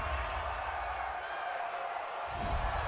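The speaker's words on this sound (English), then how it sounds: "this crowd does not like that call" Stadium crowd at an NFL game between the Las Vegas Raiders and Tennessee Titans, reacting to a roughing-the-passer penalty with a steady, distant roar that swells slightly toward the end.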